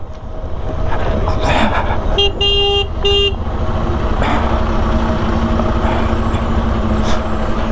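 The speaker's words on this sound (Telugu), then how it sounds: "traffic jam," A congested road near Bangalore with a traffic jam caused by road construction, giving loud continuous engine rumble from cars and trucks, and a sustained horn blast in the middle followed by shorter toots.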